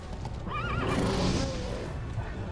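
A horse in the Heroes of Might and Magic V video game gives one loud whinny over a steady background bed, with a faint clatter of hooves and no talk.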